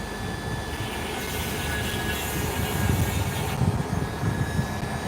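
Police helicopters flying overhead, a steady broad rotor and engine rumble that swells slightly midway, heard continuously at a moderate distance with no voices.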